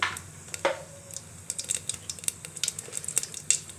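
Whole cumin seeds drop into hot oil in a home kitchen pan, giving a quick initial crackle followed by a scattered stream of small pops and sizzles, fairly quiet and close.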